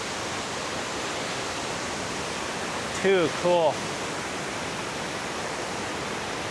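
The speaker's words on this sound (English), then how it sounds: "Ooh, it's like a double waterfall." A double waterfall near the start of the Missouri River in Montana pours in a steady, loud, full-band rush throughout, while someone briefly speaks partway through.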